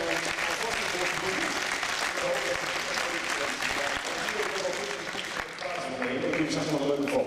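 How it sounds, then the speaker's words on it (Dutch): Audience applause at a sports team presentation in Apeldoorn, steady crowd clapping throughout with voices mixed in underneath. "Ja, graag een heel groot applaus voor jou."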